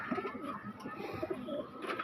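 Pigeons coo in a loft, soft throaty rolling calls that overlap and continue without break, close by and moderately loud.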